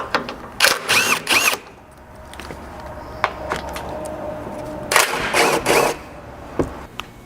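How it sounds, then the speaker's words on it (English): Bolts on the center skid plate of a 200 Series Land Cruiser being backed out with a socket during a front bumper install, a few short bursts of whirring tool noise near 0.5–1.5 s and 5–6 s, with quiet gaps and faint clicks between. "you'll just remove the back 2 bolts here using the same socket"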